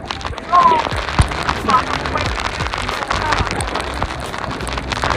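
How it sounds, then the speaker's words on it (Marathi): Heavy rain at Kasara ghat in the monsoon hills, a dense continuous patter of drops with scattered sharper hits, loud and close, with brief speech in the background. "भाई एवढा पाऊस आहे इकडं."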